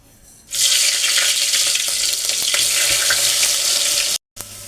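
Garlic, curry leaves and mustard seeds hit hot oil for a tempering, bursting into a loud, continuous hiss and sizzle that drops out abruptly just before the end.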